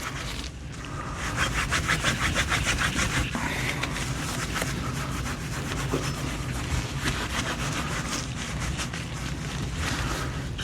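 Cloth rubbing WD wax onto an old rusty Snail Brand spanner, a steady close scraping and rubbing texture with rapid repeated strokes running throughout, fairly loud and alone.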